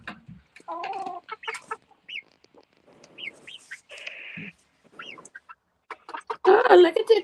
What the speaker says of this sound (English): Oh, look at the chickens.